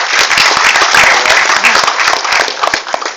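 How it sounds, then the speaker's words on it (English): An audience at an open house event applauds together, a steady wash of many hands clapping at close range for the whole stretch, dense and even without pauses. "So everybody puts their hand together and claps for the woman of the world."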